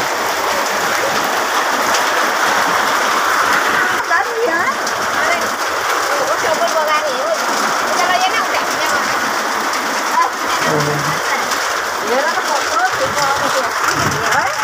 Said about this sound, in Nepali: यता गोर्खा गाईकुलमा असिना परेको छ